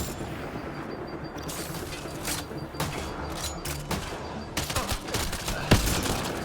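Gunfire in a firefight in Mass Effect Andromeda on the frozen planet Voeld: sharp, repeated shots and bursts with irregular spacing, some close and loud, over a steady background of combat noise.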